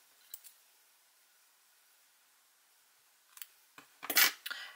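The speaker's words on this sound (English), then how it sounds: "now I'm going to change the color again, so I will cut the yarn." Scissors snipping crochet yarn close up, a couple of quiet clicks early on, then a louder cluster of sharp snips near the end after a long near-silent stretch.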